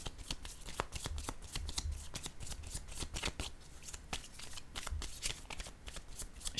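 Tarot cards being handled and laid down on a surface during a reading, with a steady run of quick papery flicks, slaps and shuffling taps, close and fairly soft, with no talking.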